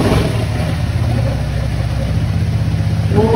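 A 400cc scooter engine runs steadily and loudly nearby with a continuous mid-pitched drone, holding a smooth rev throughout with no talk.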